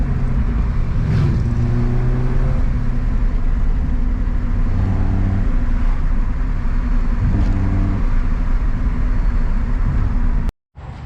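A BMW E36 318i fitted with a cold air intake, heard from inside while driving: a steady, loud engine drone with shifting tones as revs rise and fall, continuous throughout and briefly cut near the end.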